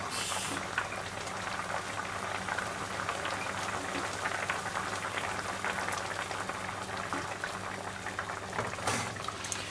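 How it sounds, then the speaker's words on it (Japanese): Hamburger steak simmers in its seasoned cooking liquid over low heat while the sauce reduces by about half, a soft steady bubbling and crackle that goes on throughout, quiet and close, with no talking. "そしてこれが煮汁が半分くらいになるまでグツグツ煮ていくようですね。"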